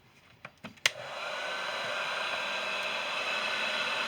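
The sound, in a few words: heat gun blowing hot air onto an iPhone cable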